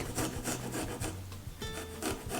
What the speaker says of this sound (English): We also grate the garlic